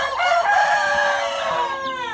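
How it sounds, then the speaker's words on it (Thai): Young bantam chickens on a farm: a rooster lets out a long, drawn-out crow close by, layered with overlapping calls and clucking from other birds, with no talking. "มาดูไก่แจ้กันอีกสักหน่อยนะครับ"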